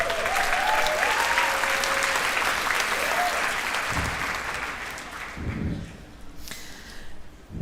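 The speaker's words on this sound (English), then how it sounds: "So give her a big round of applause." An audience breaks into a big round of applause that stays full for several seconds, then thins out to scattered claps and fades, with a voice speaking over the opening.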